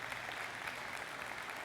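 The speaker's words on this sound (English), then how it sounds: "a round of applause" A conference audience claps in a brief, even burst of applause, moderately faint and steady with no voices over it.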